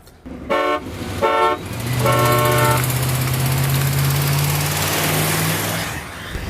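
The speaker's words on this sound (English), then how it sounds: "I'm gonna honk 3 times." A van or wagon's car horn honks three times, two short toots then a longer blast, followed by an engine revving loudly and holding.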